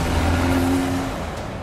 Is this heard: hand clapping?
no